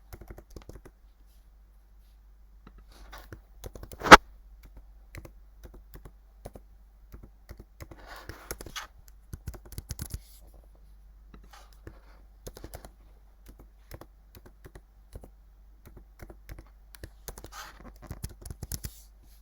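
A password typed on a computer keyboard makes soft, scattered key clicks, close and faint, in irregular bursts with one louder tap and short pauses between runs.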